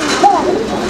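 A Koka pigeon makes a brief, faint attempt at a coo, a single soft call close by that trails off, with low background noise and some murmuring around it.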